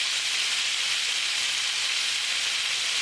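Beef browning in a pan for stew gives off a steady, even sizzle that holds at a constant level throughout, with no talking.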